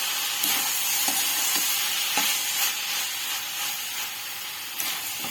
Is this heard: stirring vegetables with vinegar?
yes